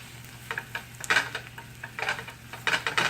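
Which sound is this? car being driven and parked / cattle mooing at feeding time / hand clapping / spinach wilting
spinach wilting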